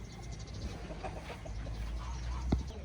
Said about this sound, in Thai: อันนี้จะเป็นไก่ ไก่ตีเล่น ไก่ตีเลี้ยงไก่ตี